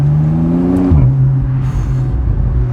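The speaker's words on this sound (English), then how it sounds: "This car's got an exhaust, by the way. They all don't sound this great." A turbocharged 2016 Porsche 911 Carrera (991.2) engine drones steadily, pitch rising then dropping as a gear shifts, with a throaty exhaust note close by.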